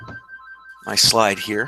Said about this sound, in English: Apologize for that phone in the background.